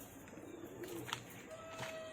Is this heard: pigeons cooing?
yes